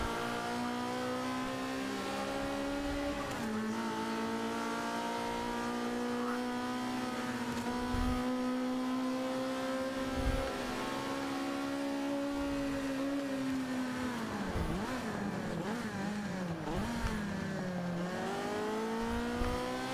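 A car engine in a racing video game holds a steady, loud, buzzing rev for a long stretch. The pitch then swoops up and down through gear changes, and dull thumps of contact break in now and then.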